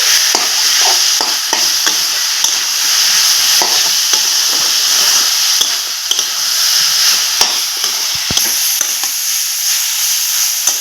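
Chalta pickle is stirred in a pan after salt is added, a loud, steady hiss of sizzling broken by scraping strokes of the spoon at an irregular rhythm.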